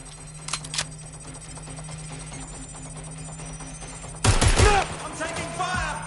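A sudden loud burst of gunfire in the game Watch Dogs Legion breaks a quiet, humming stretch near the end, with a voice audible through the volley.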